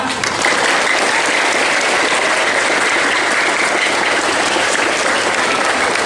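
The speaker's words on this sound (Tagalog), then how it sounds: "I think they deserve a much stronger clap than that." Audience at an elementary school graduation ceremony clapping loudly and continuously, a dense, even wash of many hands from start to finish.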